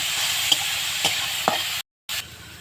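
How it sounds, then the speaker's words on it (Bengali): Drumstick flowers seasoned with salt and turmeric fry in a pan with a steady close sizzle, broken by a few sharp stirring scrapes, before the sound cuts out briefly and resumes. "এবার আমি এটাকে একটু ভালো করে ভেজে নেব।"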